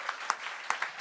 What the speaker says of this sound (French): est-ce qu'on peut applaudir les 11 humoristes qui sont derrière?